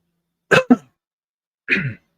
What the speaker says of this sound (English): Sorry, I didn't mean to cough into the microphone.